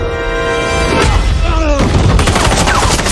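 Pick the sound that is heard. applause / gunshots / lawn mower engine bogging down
gunshots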